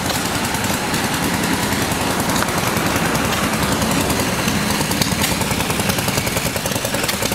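An old Fairbanks Morse engine runs at a tractor festival, giving off a rapid, steady mechanical chatter of firing beats that stays loud and close throughout with no talk over it.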